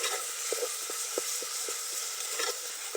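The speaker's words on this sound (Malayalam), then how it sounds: "ഇനി നമുക്ക് അരച്ച് വെച്ച ഇഞ്ചി വെളുത്തുള്ളി പേസ്റ്റ് ഇട്ട് കൊടുക്കാം" Ginger garlic paste frying in a pan makes a loud, constant sizzle, with light scraping taps from a spoon stirring it at intervals.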